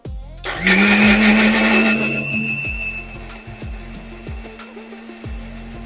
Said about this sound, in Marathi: जे खोबरं आणि कांदा वगैरे जे पूर्ण आपण गरम करून ठेवलेलं, त्याचं आपण आता इथे वाटप काढतोय